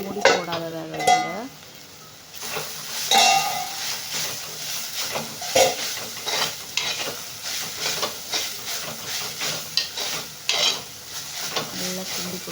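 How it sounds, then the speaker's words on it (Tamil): A spoon stirring a spinach (keerai) stir-fry in a pan, with steady soft sizzling and hiss, repeated scraping strokes and occasional light clinks against the pan at close range. "நல்லா கிண்டி கொடுத்துக்கோங்க."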